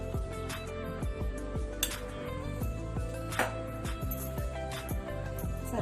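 A spoon mixes brinjal fry batter in a bowl, making a quiet, rhythmic series of clinks and scrapes against the dish, with no talking.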